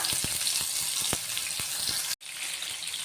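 Chopped tomatoes sizzle in hot oil with cumin, a steady, close frying hiss with faint pops, briefly cutting out before the hiss returns.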